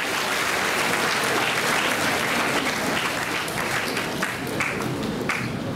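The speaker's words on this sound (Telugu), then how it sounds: "మీరందరూ ఒకసారి క్లాప్స్ కూడా కొట్టచ్చు గవర్నమెంట్." An audience at a gathering about engineering seats and a government scheme breaks into sustained applause, dense steady clapping from many hands that holds evenly throughout.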